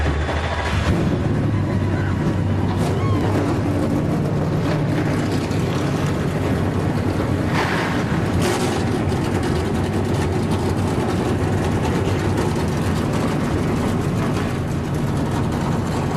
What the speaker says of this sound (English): The engines have come to life as we get closer to the start of this one